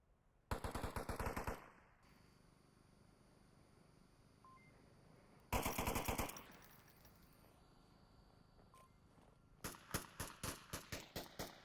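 Rapid bursts of automatic gunfire in the VR shooter Onward, three loud rattling volleys separated by quiet stretches, the last breaking into slower single shots.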